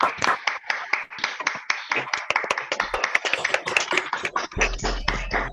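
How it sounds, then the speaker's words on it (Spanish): Scattered hand claps from an online meeting audience who have unmuted their microphones, uneven and overlapping with varied loudness, ending as a brief low hum and murmur come in. "Si quieren se pueden desmutear y le damos un aplauso a Olga."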